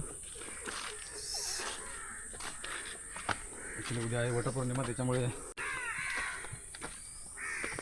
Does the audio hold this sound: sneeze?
no